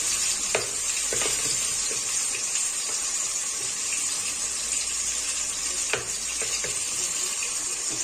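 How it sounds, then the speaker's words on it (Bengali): Spinach dhoka spices being stirred with hot water in a pan, a steady wet sizzling hiss with scattered scraping clicks of the spoon against the pan, close and continuous. "এই গরম জল দিয়ে ভালো করে একটুখানি মিশিয়ে রাখছি"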